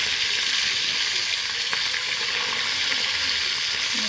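Fish frying in mustard oil in a pan: a continuous, even bright sizzle held close throughout, with a faint clink midway and no talk.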